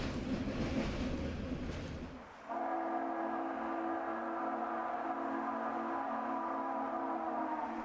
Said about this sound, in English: The train stops in the Narrows for another run-by.